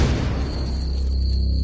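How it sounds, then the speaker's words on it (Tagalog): A loud explosion booms with a deep, sustained rumble that fills the whole short stretch and rolls on without fading. "Medyo malayo na kami sa mansyon nang mayroon kaming marinig na malakas na pagsabog."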